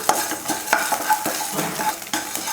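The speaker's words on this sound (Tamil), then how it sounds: "கொஞ்சம் உப்பு போட்டு வறுத்துக்கலாம்." Salt is dry roasted in a pan for idli podi, with quick rhythmic scraping and stirring strokes close up, a light gritty rustle between the scrapes.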